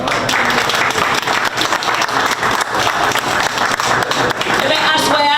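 Audience applause at a fundraising event, loud dense clapping from a crowd that runs continuously throughout, with some voices mixed in.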